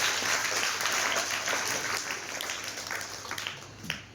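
Steady applause fills a hall during a talk about conquering board exam fear, a continuous wash of many hands clapping at fairly even loudness throughout, slightly thinning toward the end.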